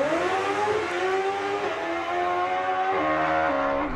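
Drag racing engine at full throttle, a loud sustained harmonic roar whose pitch steps up and shifts partway through as the note changes, heard close and alone without talk.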